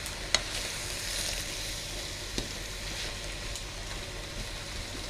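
Ratatouille vegetables sizzle steadily in a pan on a hob, a soft even frying hiss with a couple of faint clicks from stirring utensils, no voices over it.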